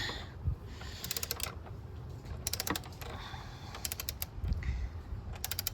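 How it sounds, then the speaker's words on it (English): A torque wrench tightens bolts on the engine of a second-generation Chevy Colorado, producing repeated bursts of sharp ratcheting clicks in short clusters, close by and fairly quiet, with no talking. "So I'll get my torque wrench and torque them down."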